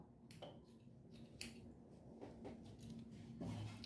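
Scissors snip through folded fabric strips for a rag rug in a quiet, close room, giving several faint, irregular cuts.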